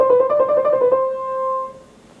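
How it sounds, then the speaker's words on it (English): A descending trio with a mordent played on a keyboard, a quick cluster of ornamented notes over about one second, then a sustained final tone that fades out, solo and unaccompanied. "Eighth, a descending trio with a mordent."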